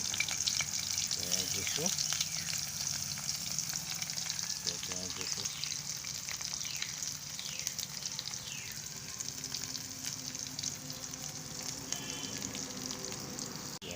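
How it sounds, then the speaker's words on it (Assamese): Chopped onions sizzle and crackle steadily in hot oil in a pan, a constant fine frying hiss with occasional stirring clinks, while a voice speaks briefly over it. "পিঁয়াজখিনি গৰম হৈছে। মই এতিয়া পিঁয়াজ দিওঁ।"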